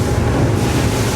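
R-Evolution X36 boat hull running through 1-metre waves, a steady loud wash of water and wind rushing past, dense low rumble with hull slap blended into constant surf noise.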